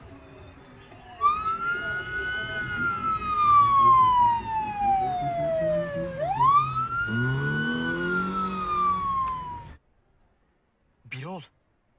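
An ambulance siren wails while driving, a loud close sweeping tone rising and falling over engine rumble for several seconds, then cutting off abruptly, followed by a brief voice.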